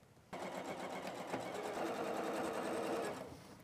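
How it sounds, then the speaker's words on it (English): Sewing machine running steadily at close range, stitching two pieced quilt block units together, with a continuous mechanical whir for about three seconds after a short quiet start. "I'm going to sew these 2 units together"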